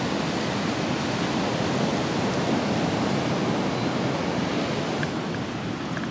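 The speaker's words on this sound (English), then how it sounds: "here is the beach the day before Hurricane Idalia" Surf rolls in at Jax Beach, Florida, the day before Hurricane Idalia, as a loud, constant wash of breaking waves with some wind buffeting the microphone and no voices.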